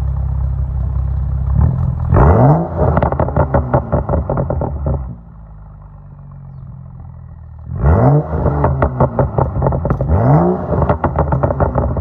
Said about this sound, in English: I'll do some like rev checks